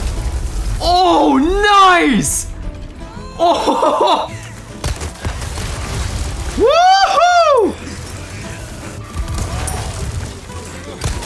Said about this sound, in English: There's so many fucking explosions!